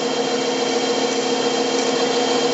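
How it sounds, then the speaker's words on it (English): A hand-turned drill chuck fitted with a handle bores a small 1/4-inch hole in wood, giving off a loud, steady, even grinding whir that lasts the whole time. "It's just a drill chuck that I made a handle for, and it's neat for making little holes like that."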